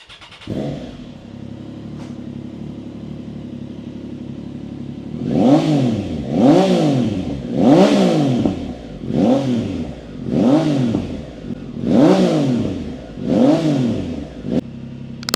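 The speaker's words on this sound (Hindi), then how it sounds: "आवाज़ अच्छी है, ज़्यादा लाउड नहीं है।" A Ducati motorcycle with a carbon fiber exhaust tip idles steadily close by, then revs about seven times in a regular rhythm, each blip rising and falling. The exhaust note is moderately loud rather than harsh.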